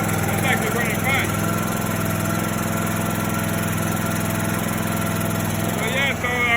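A 17.5 hp Briggs & Stratton lawn mower engine runs steadily at a constant idle, a loud continuous hum with no breaks, and a voice is faintly heard over it.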